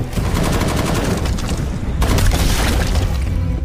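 Rapid bursts of gunfire crackle almost without pause as soldiers shoot at incoming aliens in a film scene, dense and loud with a brief break midway before the volley resumes.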